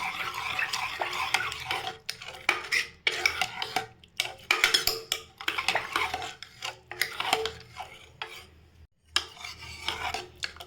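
A spoon stirs green gram porridge with salt in a metal pot, scraping and clinking in bursts with brief pauses between strokes, close and fairly loud, no voices.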